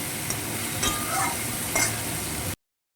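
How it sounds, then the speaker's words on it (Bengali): Tengra fish coated with turmeric and salt fries in a pan while being stirred, a continuous close sizzle with a few spatula scrapes, cutting off abruptly near the end. "এইভাবে নাড়িয়ে পাড়িয়ে কিছুক্ষণ আমি মাছটাকে একটু ভেজে নেব"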